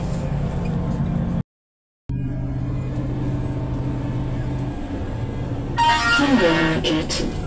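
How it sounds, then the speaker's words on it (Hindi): Metro train ride through a city, with a steady low rumble and hum inside the carriage, a brief dropout, then brighter rattling and squealing toward the end. "मेट्रो में बैठ चुके हैं और हम शहर में जा रहे हैं"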